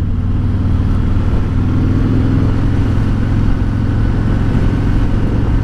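A 2019 Harley-Davidson Road King with a Rinehart Racing DBX45 slip-on exhaust rumbles steadily in third gear near 2,500 RPM. The loud, deep, even exhaust note holds close and unbroken throughout, with no talking.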